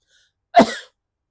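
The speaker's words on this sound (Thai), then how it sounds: "เดี๋ยวไอจาม เนี่ยไอจามมาพอดีครับ" One short, sharp sneeze burst, loud and close, in otherwise silence.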